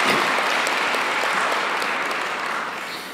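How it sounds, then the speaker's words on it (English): Loud, sustained applause from a large audience, dense clapping that holds steady and then eases slightly toward the end. "I think we must increase the volume of the applause so that he can hear us."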